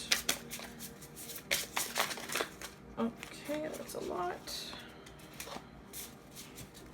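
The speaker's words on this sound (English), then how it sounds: "So I'm just shuffling on camera, seeing if anything pops out." Tarot cards are shuffled by hand in short, crisp bursts of riffling and tapping, close and fairly quiet, while a person speaks briefly between them.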